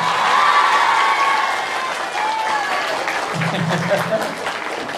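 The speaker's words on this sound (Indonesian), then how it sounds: "Tepuk tangan lagi, satu lagi." An audience of scholarship students at an Islamic religious gathering gives a burst of loud applause that starts strong and gradually tapers, with voices and cheers mixed in toward the end.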